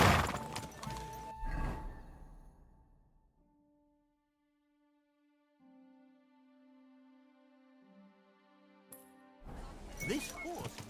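Horse hooves clip-clopping in Kingdom Come: Deliverance 2, a rhythmic patter of hoofbeats heard at the start and again at the end, with sustained tonal game music filling the quiet middle stretch.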